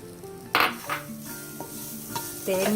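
Grated coconut is heated and stirred in the same pan just used to roast semolina for rava ladoo. Scraping stirs and a soft sizzle come through close up, with louder bursts of stirring near the start and end.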